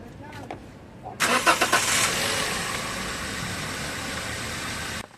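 A Toyota Avanza engine with an overheating, misfiring fault cranks with a few quick chugs, catches and roars, then settles into a loud, steady idle close by before cutting off.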